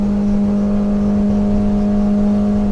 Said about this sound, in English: you can hear that hitting the rev limiter.